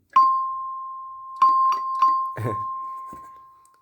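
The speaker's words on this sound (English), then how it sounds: "Edward Signaling 339G1 single stroke chime." An Edward Signaling 339G1 single-stroke fire alarm chime rings out, struck once and then several more times, each clear tone sustaining and slowly fading, with a duller knock mixed in.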